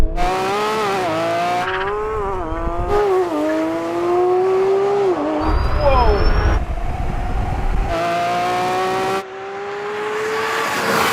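A Porsche 911 GT3 RS accelerates hard in a drag race, its high-revving engine rising through several gear changes, loud and close, with a second roar and a drop in level near the end.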